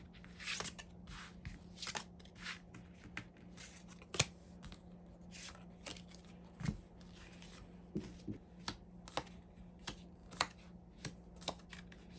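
Tarot cards are shuffled and drawn, producing faint, close riffling and crisp flicks and taps in an irregular series of soft clicks with no talking.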